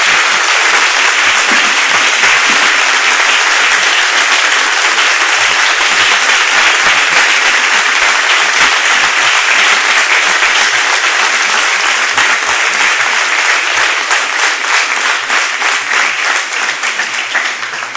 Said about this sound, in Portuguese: vamos dar uma linda salva de palmas para o nosso Deus Todo-Poderoso